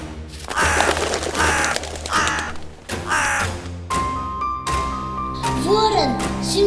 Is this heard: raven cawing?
yes